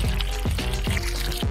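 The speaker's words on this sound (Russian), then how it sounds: "И добавляем немного воды." Water is poured from a kettle into an instant Korean rice cake (tteokbokki) cup, making a steady close splashing and gurgling stream with a few rhythmic glugs and no speech.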